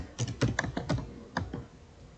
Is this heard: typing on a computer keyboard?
yes